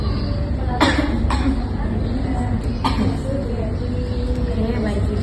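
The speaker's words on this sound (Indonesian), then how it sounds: "silakan batuk" A woman does an effective cough exercise during breathing training in a clinical setting, giving a few short, sharp coughs spaced apart over a steady background hum.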